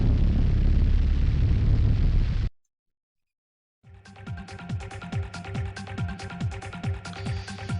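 Fire-like roaring noise from the Yume Nikki video game soundtrack, loud and dense, then a sudden break of silence before rapid pulsing electronic music with repeated low thumps.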